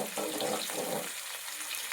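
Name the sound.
cumin and mustard seeds frying in oil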